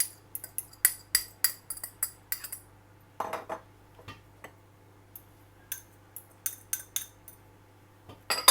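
A spoon stirs salt, dried fenugreek, coriander powder and red chilli powder in a bowl for onion paratha, making a close series of light metallic clinks and taps in uneven bursts with a faint hum beneath.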